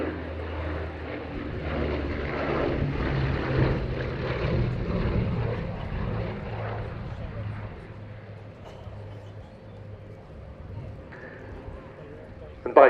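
A Bristol Blenheim Mk 1F flies over Duxford with a steady propeller-engine drone that fades toward the end, while a commentator talks over it throughout.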